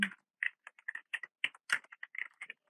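Keyboard typing while writing jQuery code for a show/hide password feature: quick, irregular bursts of close, crisp key clicks with short pauses between, no voices.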